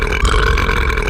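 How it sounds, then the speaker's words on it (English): A single long, loud, throaty burp from a cartoon character during a burping challenge, close and continuous with no talk over it. "I love to see you burp so much"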